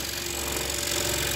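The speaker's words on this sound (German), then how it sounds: "macht es richtig Spaß, diese Zacken entlang zu sägen" A scroll saw buzzes steadily through wood while cutting a zigzag line, its rapid blade chatter close and continuous.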